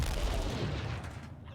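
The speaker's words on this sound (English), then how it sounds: "some of these barrels are explosive" Explosive barrels blow up in the video game Heroes Reborn: Gemini, a loud booming burst with rumbling low end that rolls on and gradually fades, ending in a short crackling tail.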